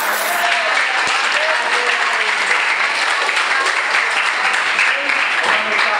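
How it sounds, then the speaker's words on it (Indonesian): A class breaks into applause together, a dense, loud wash of clapping that holds steady and continuous throughout, with faint voices mixed in. "Iya, tepuk tangan."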